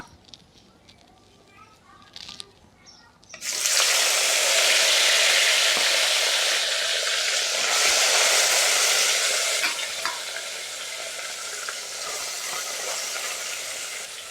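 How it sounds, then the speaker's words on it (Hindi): Small morola fish drop into hot mustard oil. After a few quiet seconds of handling noise, a loud, close sizzle bursts out and keeps crackling and hissing steadily to the end. "फिर इसमें मछलियों को तलें"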